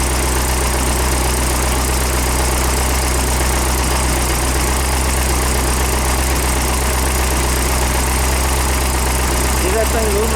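Car engine idling on 10W30 synthetic blend oil, a loud steady low rumble and hum that runs continuously and close up with no pauses.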